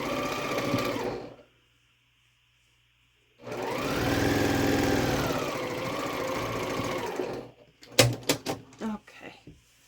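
Sewing machine stitching fabric pieces for a star quilt block, running in two bursts, a short one at the start and a longer steady whir in the middle, followed by a few sharp handling clicks and thumps.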